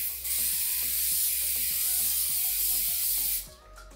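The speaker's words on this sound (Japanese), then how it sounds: "スプレーワックスを全体に振ります。" Spray wax hisses out over the whole head of hair in a half-up hairstyle. A single continuous burst lasts about three seconds and then cuts off abruptly.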